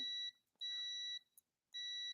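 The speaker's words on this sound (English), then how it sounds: "We hear the beep. We know we're on continuity, right?" A multimeter set to continuity gives three steady electronic beeps, each held about half a second with short gaps between, close and clear, while testing wiring on a limousine with electrical faults.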